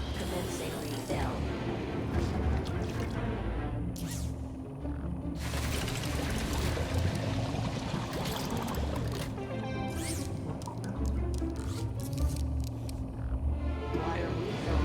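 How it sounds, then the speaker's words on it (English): A water tank refilling in the video game Beyond a Steel Sky, a continuous gushing and pouring rush with drips and mechanical clunks, while voices talk over it. "Water refill complete."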